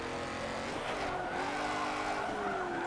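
A drift car skids out of control after an e-brake pull with the wheel turned the wrong way, giving a loud, sustained tire squeal over engine noise in a failed drift.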